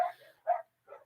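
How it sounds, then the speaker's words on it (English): A dog gives three sharp barks, close and fairly loud, spaced about half a second apart, with silence between and no talk. "Sorry about the dogs."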